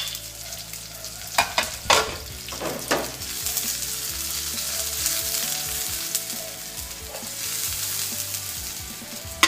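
Red onions sizzle and fry steadily in a pan as they are stir-fried for a bitter gourd dish with corned beef and eggs, with a few clattering stirring knocks over the continuous hiss and no speech.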